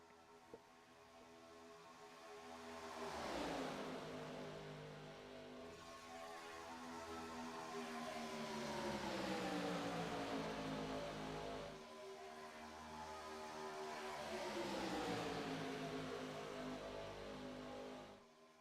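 Stock car engines roaring in a racing video game at Daytona International Speedway, a steady pack drone with cars sweeping past in long rising-and-falling passes, no talk.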